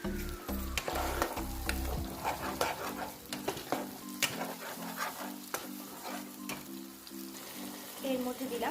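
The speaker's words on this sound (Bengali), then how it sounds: "এরপরে যেটা পেস্ট বানিয়েছি পেঁয়াজ, আদা, রসুন আর টমেটো, সেটা দিয়ে দেবো।" Paste of onion, ginger, garlic and tomato sizzles loudly in hot oil seasoned with nigella seeds and green chilli for a pomfret curry, with steady frying crackle and repeated spoon stirring scrapes throughout, no talking.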